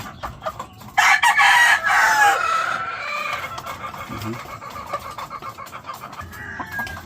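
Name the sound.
breeding hen, chickens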